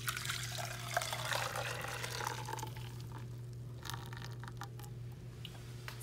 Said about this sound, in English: you're actually going to just go ahead and pour it back into your saucepan.